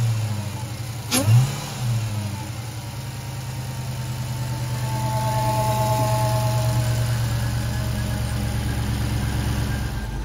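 A Dodge Hellcat's engine with stock exhaust gives a single sharp, loud rev that quickly drops back, then settles into a steady, rumbling idle that swells slightly and holds close by.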